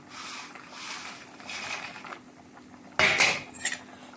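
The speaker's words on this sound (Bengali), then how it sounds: "তরকারির আলুগুলো সিদ্ধ হয়ে গেছে, এখন আমি দেখো ভুজিয়াগুলোকে ঢেলে দিচ্ছি" Bhujia poured into a pot of boiled potato curry, a brief rattling patter of dry crispy bits landing in the pot, following softer kitchen clatter and stirring.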